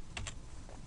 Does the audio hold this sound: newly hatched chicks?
no